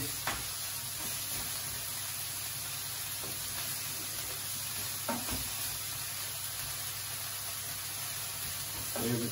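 Garlic frying lightly in a pan gives a steady, even sizzle close by throughout. A few faint scrapes and clinks break through it now and then.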